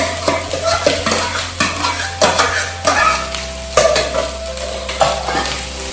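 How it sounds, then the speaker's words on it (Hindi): Rice and cauliflower being stirred in a hot pan, a spoon scraping and clinking against the metal in a steady rhythm over a continuous close sizzle, with a low background hum and no talking. "Mix rice with cauliflower."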